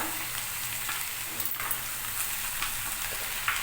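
Radish sizzling steadily as it sautés in hot oil in a pan for radish chutney, a continuous crackling fry with occasional stirring scrapes, close and fairly loud, with no talk.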